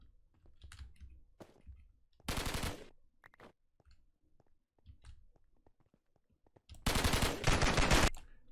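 Gunfire in a Minecraft SCP game, with two bursts of rapid automatic shots separated by quiet stretches of faint clicking and keyboard taps, the second burst longer and louder.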